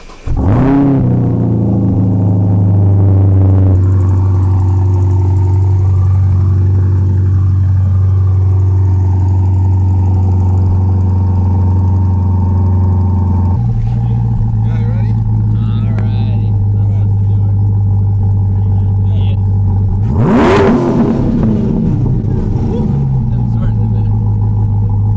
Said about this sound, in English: All right, Frankie, you wanna give her a few revs for me?